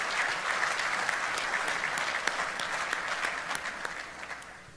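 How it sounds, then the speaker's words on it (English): An audience at a military land power conference applauds serving Army soldiers, a full, even roar of clapping that holds steady and gradually fades toward the end. "So round of applause for soldiers who are serving our Army today."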